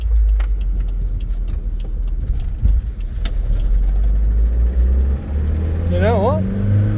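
A newly bought vehicle rolls over bumpy terrain, a close low engine rumble with rattling jolts and clunks, while someone talks over it.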